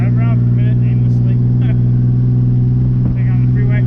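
A Ford Ranger pickup drives along with a loud, steady engine drone and buffeting wind noise close to the microphone, while someone talks over it.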